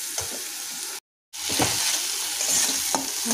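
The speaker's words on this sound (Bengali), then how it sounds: "এইভাবে আমরা ভালো করে মশলাটাকে কষে নেব।" Spice paste for a fish curry made with pona fish fries and is stirred in a pan, giving a steady close sizzle with scraping stirs and a short pause partway through, with no voices.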